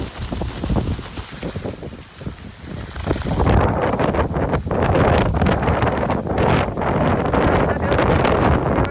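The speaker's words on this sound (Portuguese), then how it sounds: "Tá muito vento aqui fora, muito vento." Strong, sustained hurricane wind buffets the microphone outdoors near a house, roaring steadily and growing louder after a few seconds, with gusty rustling throughout.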